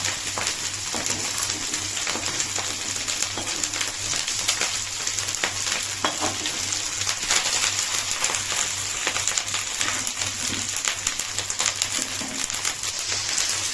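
Chicken curry masala frying in a pan for a restaurant-style curry gives a steady, dense crackling sizzle that runs evenly throughout with no voices.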